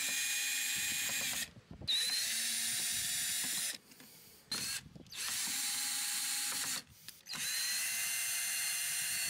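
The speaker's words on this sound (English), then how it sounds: "Drill 100 mm holes for both lights." A power drill whines steadily, cutting 100 mm holes in car light covers, stopping briefly a few times before starting again, loud and close with the motor pitch shifting.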